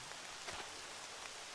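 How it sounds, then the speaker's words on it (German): Rain falls steadily in the game Horizon Zero Dawn, a soft hiss of drops pattering on surfaces, faint and continuous over a brief moment with no voices. "ich stehe im Regen"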